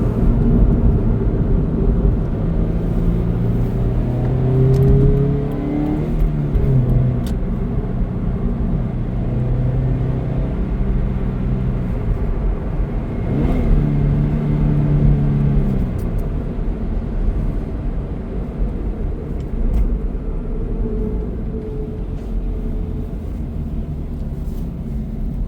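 A manual Subaru BRZ cruises steadily, its engine and road noise forming a constant low rumble heard from inside the cabin, with subtle rises and falls as it drives.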